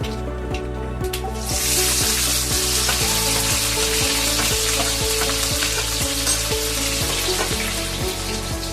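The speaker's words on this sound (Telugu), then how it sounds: "జీలకర్ర, ఆవాలు చిట్టపడంటున్నాయి కదా" Cumin and mustard seeds splutter and crackle in hot oil with sliced onions frying for a cabbage fry, a loud, steady sizzle broken by sharp, rapid pops.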